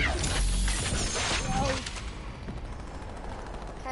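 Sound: sniper rifle shot in a video game

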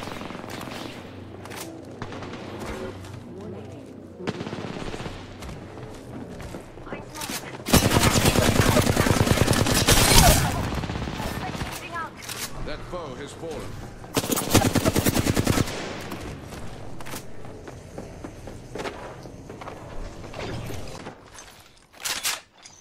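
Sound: gunfire in the video game Apex Legends

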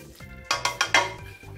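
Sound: mixing cooking ingredients together in a pan

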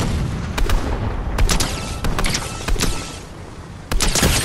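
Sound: bomb explosion in the video game Fortnite

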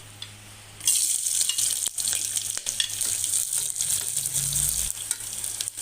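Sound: frying onion with whole spices for mutton paya soup

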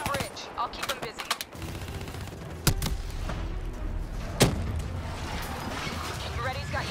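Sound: gunfire from Call of Duty Black Ops III video game

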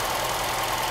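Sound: Mercedes-Benz W123 230E engine idling

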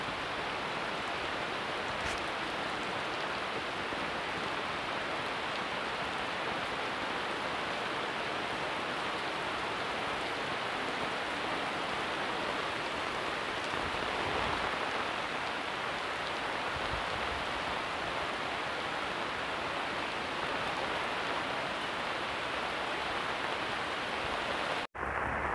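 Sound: heavy rain falling over a paddy field

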